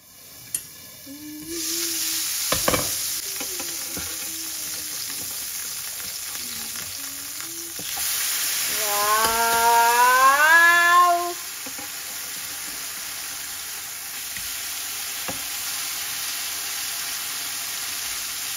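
Fish sizzles and fries steadily in a pan on low flame, a soft continuous crackle with a few sharp clicks and a brief louder burst midway, while tonal whistling tones rise and fall over it.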